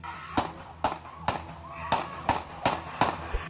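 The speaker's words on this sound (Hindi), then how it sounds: "लगातार 7 बार गोलियों की जोरदार आवाज सुनाई दी" Seven sharp, loud gunshot-like bangs in an irregular series, each cracking out with a short echo, with faint murmuring in the background.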